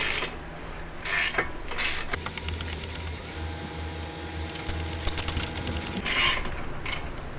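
A ratchet spins loose factory oval locking nuts from the suspension of a 10th-generation Honda Civic during an anti-lift kit install, giving close, fairly steady mechanical clicking through most of the stretch with no talking.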